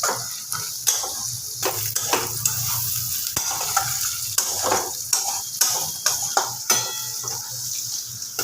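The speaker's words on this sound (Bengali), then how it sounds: "ভাজা ভাজা করে নেব মশলাটাকে" Whole garam masala spices frying in a pan, a continuous close sizzle broken by regular scraping stir strokes about once a second, with no talk.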